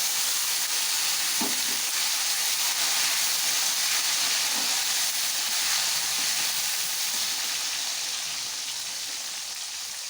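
Chopped tomatoes sizzle with cumin and spices in a hot pan for aloo paneer sabji, giving a continuous soft frying hiss with a couple of light utensil taps, fairly quiet and easing slightly toward the end.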